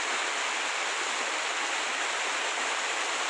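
A large river rushes through a forest at night, giving a steady, even hiss of flowing water with no voices.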